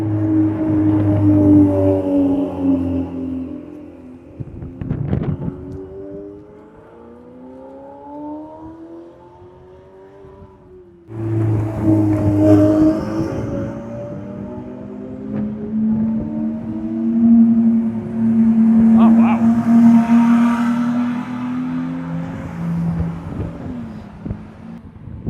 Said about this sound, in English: That 296 challenge sounded way better than the 488 challenge.